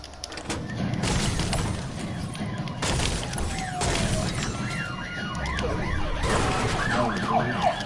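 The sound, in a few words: police sirens approaching in a video game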